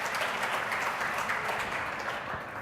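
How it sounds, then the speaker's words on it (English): Applause from a conference audience after a speaker is thanked, a steady, moderately faint patter of many hands with no voices over it. "Can you please give a round of applause for Ben?"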